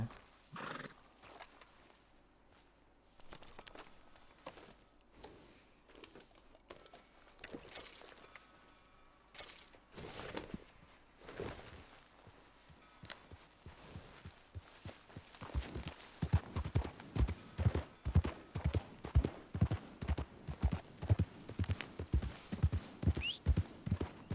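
A horse in the Red Dead Redemption 2 video game neighs and whinnies, then its hooves clip-clop in a steady, increasingly loud rhythm as it sets off walking, with faint ambient sounds early on.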